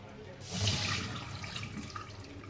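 Rinse water from sushi rice is poured out quickly in a steady splashing rush, close by and fairly loud, tapering off toward the end.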